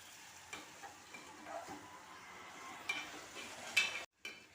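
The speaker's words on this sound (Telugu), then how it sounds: "చింతపండు వేసిన తర్వాత మళ్ళీ కొంచెం కలుపుకోవాలి ఇట్లా" Soft, scraping stirring strokes move through a pan as tamarind is mixed into a Telangana-style fish curry. Quiet, scattered scrapes sit over a faint background hiss, with a few sharper knocks toward the end.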